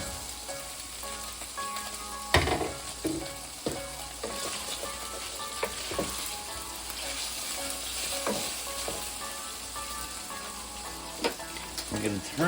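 Meat browns in a pan with a continuous close sizzle and crackle, punctuated by scattered knocks and scrapes of a utensil stirring it, no voices.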